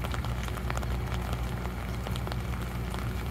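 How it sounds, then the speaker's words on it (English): Rain patters steadily on an umbrella during a walk outdoors in Sault Ste. Marie, a dense continuous drumming of drops close overhead with no talk. "You can hear the rain on the umbrella."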